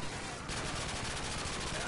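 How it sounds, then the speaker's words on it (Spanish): Dense, continuous automatic gunfire from the Call of Duty Modern Warfare 2 video game crackles loudly and without a break, a sustained burst of rapid shots filling the moment. "Yo disparo a cualquier lado"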